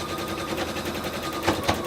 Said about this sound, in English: That is the sound of a dull needle.